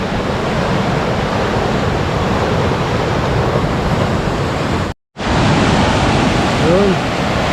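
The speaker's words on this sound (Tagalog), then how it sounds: "Lakas ng tubig." Swollen river water surges during a typhoon in a steady, loud, broadband roar close at hand, broken by a split-second dropout, with a faint voice briefly near the end.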